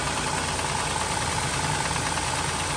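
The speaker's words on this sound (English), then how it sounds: "Yeah, you can hear some valve clatter." A 2005 Dodge Grand Caravan's 3.3 L V6 idles with a steady, close mechanical rattle of valve clatter over a constant engine hum, with no voices.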